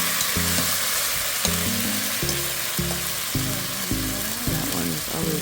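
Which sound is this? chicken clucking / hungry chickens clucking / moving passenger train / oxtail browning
oxtail browning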